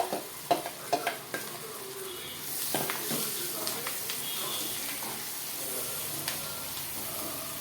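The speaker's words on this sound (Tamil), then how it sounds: "இப்போ நம்ம அரைச்சி வச்சிருக்கிற பூண்டு பேஸ்ட்டை போட்டுக்கலாம்." Ground garlic paste fries in a pan with a steady hiss and sizzle, while a spoon stirs it with sharp clinks and scrapes.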